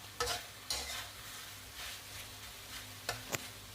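Chinese sausage frying for a garlic-pepper dish hisses quietly in a pan while a spatula stirs it, with a few distinct scrapes and taps over the low sizzle.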